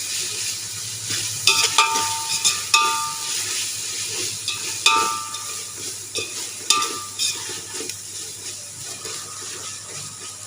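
Ginger garlic paste sizzles steadily in hot oil for a chicken biryani, with repeated scraping and stirring strokes of a spoon against the pan, close and fairly loud, no voices.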